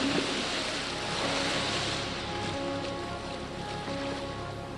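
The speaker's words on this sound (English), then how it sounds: "This is the wave tank at the RNLI's headquarters in Dorset." Water sloshes and surges in the RNLI wave tank at the lifeboat headquarters in Dorset, a steady rolling wash of waves with a low rumbling undertone, heard alone.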